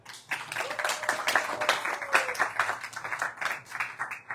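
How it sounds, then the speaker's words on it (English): Audience applause at an evening Harikatha gathering in Seattle, a dense, steady clapping that starts abruptly and carries on for about four seconds, fairly faint and room-filled. "big clapping for the host"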